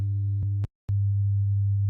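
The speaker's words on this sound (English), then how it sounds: "all we're doing is 100 hertz sine wave" A steady 100 hertz sine wave tone, a pure low hum broken by clicks and a short gap of silence before resuming, alone with no talk.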